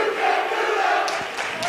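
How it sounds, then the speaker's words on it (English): A student section crowd chants at a high school basketball game between Scott City and Hugoton, a broad, sustained roar of many voices filling the gym for under two seconds with a few sharper shouts near the end. "It's kind of a stupid chant, and it's obvious."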